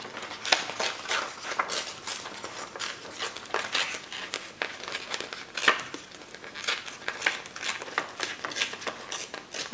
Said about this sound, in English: Let us start tearing away